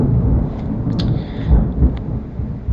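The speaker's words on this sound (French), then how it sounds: "Oh, il y a de l'orage, hein." Thunder rumbles low and close during a storm, swelling in two heavier rolls over a steady wash of rain, with no talk.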